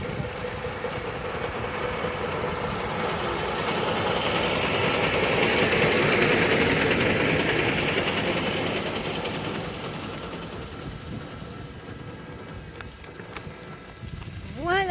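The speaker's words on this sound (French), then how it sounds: "il y a un camion de fuel avec le moteur allumé" A fuel tanker truck sits with its engine running, a steady low rumble that swells and fades gently under outdoor noise, with a voice briefly audible near the end.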